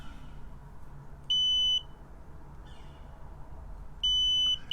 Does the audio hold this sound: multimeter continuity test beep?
yes